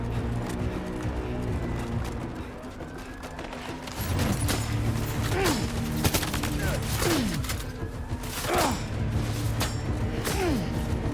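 Rapid bursts of suppressive gunfire in the video game Death Stranding 2, cracking repeatedly over a dense layer of game sound and music, with several sharper shots standing out near the middle and end.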